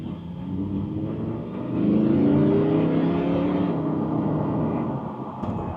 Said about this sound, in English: All right, then back on the gas pedal here.